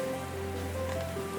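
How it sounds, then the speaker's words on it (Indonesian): Water from a garden waterfall pours steadily during rain, making a continuous close hiss and splash, with a faint low hum running underneath. "Meskipun ini hujan, tapi ini suara air terjun ya."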